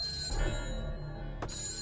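A telephone rings with a bright electronic bell tone, a short burst of ringing that breaks off and resumes, heard clearly and alone in an office scene.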